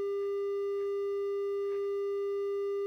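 A synthesized triangle wave tone built from stacked sine harmonics holds perfectly steady and even, a pure buzzy-soft pitch sounding alone without change for the whole stretch.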